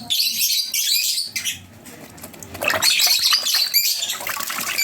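Wet pet bird, a turquoise variety, being bathed and flapping its wings hard, a loud close flurry of fluttering bursts mixed with sharp squawks and chirps, with splashing water underneath.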